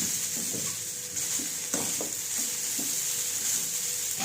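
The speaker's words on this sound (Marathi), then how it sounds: "आता आपण थोडासा गॅस कमी करूया आणि हे सर्व व्यवस्थित मिक्स करून घेऊया." Sago pearls (sabudana) are stirred in a pan over lowered heat, a steady moderate sizzle broken by repeated soft scraping strokes of the spoon, with no voices.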